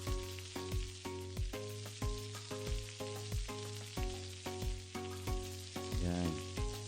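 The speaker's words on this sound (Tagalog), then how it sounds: "so igisa lang natin for 5 minutes" Onions and aromatics being sautéed in a pan for paksiw na bangus with ampalaya, a steady close sizzle broken by regular scraping stirs of a spoon against the pan, with no talking.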